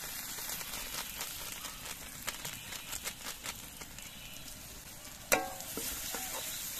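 Onions and tomato frying with turmeric and chilli powder being stirred in, a faint, steady sizzle with soft irregular stirring scrapes and one sharp knock of the spoon near the end.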